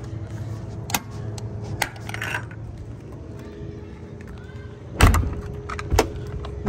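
A heavy-duty door on a 2023 Adam 2+2 trailer clunks shut with a solid metallic thud, followed by a few sharper clanks and rattles, close by against a quiet background.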